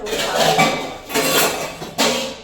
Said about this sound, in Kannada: ಕಿಚನ್ ಸಿಂಕ್ ಎಲ್ಲ ಕ್ಲೀನ್ ಮಾಡಿಕೊಂಡು ಪೂಜೆ ಸಾಮಾನು ತೊಳಿತಾ ಇದ್ದೀನಿ